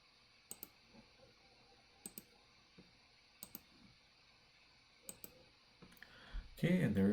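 A computer mouse clicks during CAD drafting, sharp light double-clicks repeating every second or so, quiet and close, ending with a louder burst of handling noise.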